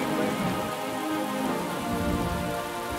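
Rain and thunder run as a sound effect in a 1993 song, a steady hiss of falling rain over low rumbling, blended with faint music and no voice.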